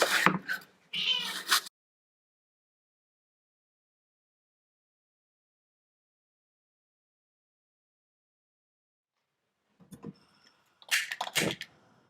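Two short bursts of cat meowing separated by a long silence, the calls close and fairly clear.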